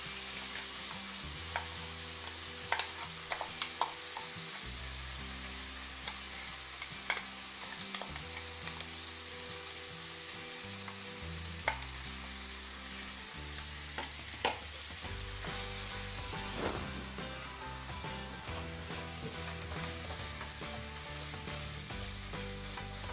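Onion and coconut paste frying with minced meat for kheema masala: a continuous close sizzle with occasional stirring clinks, over a steady low hum, no talking.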